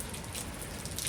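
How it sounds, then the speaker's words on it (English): Heavy rain from a super typhoon, a dense hiss of falling water and drops striking surfaces, continuous and close for a brief moment with no voices. "it is raining"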